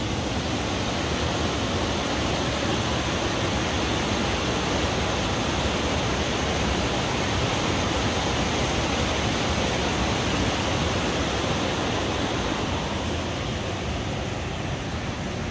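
Water rushing through an old mill dam at a hydropower site, a loud, continuous broadband roar that stays steady throughout with no voices.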